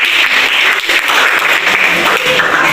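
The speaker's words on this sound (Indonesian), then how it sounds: "Tepuk siang, tepuk malam, tepuk pagi." A classroom of students claps along to a teacher's call-and-response clapping game, a steady, fairly loud burst of hand claps that fills the whole moment without clear talk over it.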